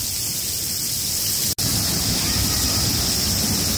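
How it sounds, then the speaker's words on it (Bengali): Steady broadband rush of water falling in many streams like heavy rain at Sahastradhara waterfall near Dehradun, continuous throughout with one brief dropout midway. "এত ধারাতে বৃষ্টির মতো জলটা পড়ছে"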